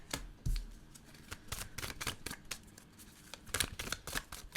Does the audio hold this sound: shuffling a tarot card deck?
yes